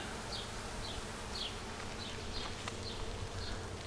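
Bees buzz around garden flowers, faint and distant, with a soft continuous hum and occasional passes against low background noise.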